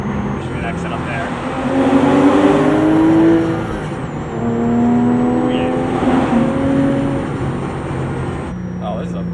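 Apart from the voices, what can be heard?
Porsche 996 Carrera with Fabspeed full exhaust accelerating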